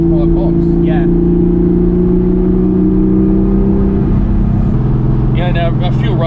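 A modified Porsche 911 SC with a 915 gearbox drones loudly from inside the cabin, its engine tone holding steady, then stepping down in pitch as a gear changes, with voices talking over it.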